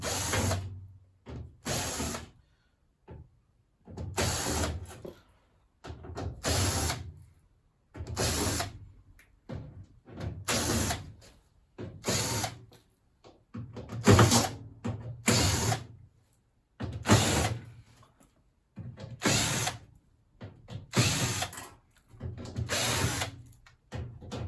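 Screws are being driven out with a power drill around the drum front of a Beko DRCS68W condenser tumble dryer, in a dozen short whirring bursts with brief pauses between them, close and steady, with no talking.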